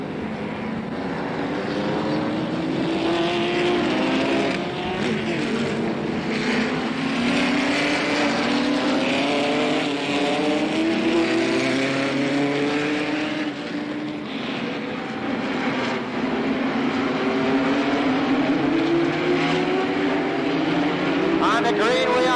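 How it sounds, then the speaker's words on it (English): Stock race cars roaring around the Slinger Nationals track, a loud, continuous engine drone with rising and falling pitch as cars pass, with an announcer's voice talking over it throughout. "The 44 car goes in like a rocket."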